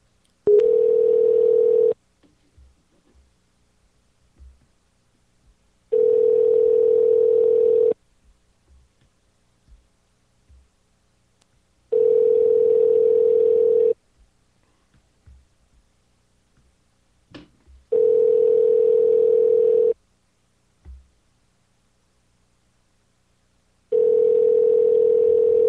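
A telephone ringback tone heard during a Skype call placed on a radio show: a steady electronic tone in two-second bursts separated by about four seconds of near silence, repeating five times with faint clicks between.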